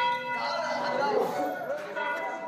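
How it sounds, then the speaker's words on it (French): Church bells ring on and on, their overlapping tones blending into a dense metallic wash, with voices murmuring underneath. "Vous entendez les cloches ?"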